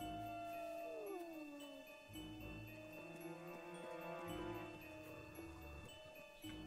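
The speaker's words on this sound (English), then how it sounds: "Oh, we have another wolf." A wolf howls in the Fable III video game, long rising and falling wails with a few yips over faint background music, quiet and drawn out.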